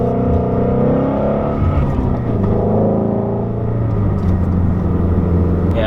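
A 2017 Shelby GT350 with magnetic ride control cornering in sport mode, its engine a loud, steady low rumble that drones on without a break and with no voices over it.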